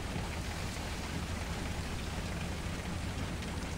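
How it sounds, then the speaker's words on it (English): Hail pounding down during a severe storm while chasing tornadoes, a dense, steady roar of impacts that stays constant and close throughout, with no voices. "we're just getting absolutely destroyed by hail right now"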